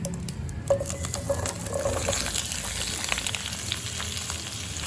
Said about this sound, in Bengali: এবার আমি কেটে ধুয়ে জল ঝরিয়ে রাখা কাঁচা টমেটো বেগুন আর কাঁচা লঙ্কা একসাথে দিয়ে দেবো